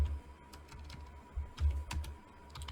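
Someone types code on a computer keyboard in quiet, irregular bursts of soft, close clicks and taps, with no voices.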